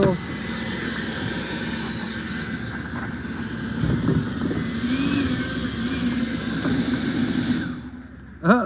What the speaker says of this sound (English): My blower in the back of the truck was sitting there running.